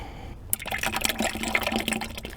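SoftSand nonskid additive dumped into gelcoat, a loud, close, continuous gritty pouring and splashing rush that starts abruptly and keeps going.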